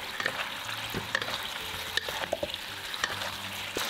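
Chicken is stirred in a hot pan with soy sauce and rice wine for three-cup chicken. Steady close sizzling and frying is broken by scraping stir strokes and small pops, with no talking.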